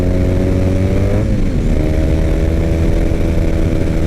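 A 2006 Triumph Bonneville motorcycle engine roars loud and steady throughout while riding, with a brief dip and shift in pitch partway through, close up and with no voices.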